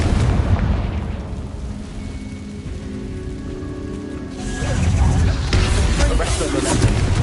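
Explosive Confringo spell blasts in a Hogwarts video game: heavy booming rumbles with crackling debris, a loud blast at the start and another swelling about two-thirds through, with voices heard faintly.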